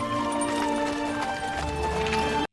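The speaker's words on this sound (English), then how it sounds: "Oh, that's a fancy prancing horses there." Hooves of prancing horses clip-clop in a 1995 period film, a brisk rhythmic clatter over a sustained musical score, ending abruptly.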